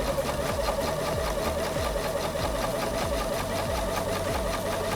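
A sewing machine stitches a quilt seam, its rapid even needle rhythm running loud and close the whole time with a mechanical whir underneath, no talking.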